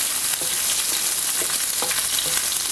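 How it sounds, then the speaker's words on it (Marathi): Garlic and curry leaves sautéing in hot oil with cumin for a village-style milk brinjal masala: a dense, steady close sizzle with a few soft stirring scrapes, and no voices. "आणि कढीपत्ता घालूया. चांगलंसं आपल्याला परतून घ्यायचं."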